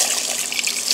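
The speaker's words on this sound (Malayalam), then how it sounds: "ഞാൻ വെള്ളം ഒഴിക്കുന്നുണ്ട്" Water is poured into a pan of sugar while making syrup for honey candy, a steady close trickle of liquid lasting about a second with no voices.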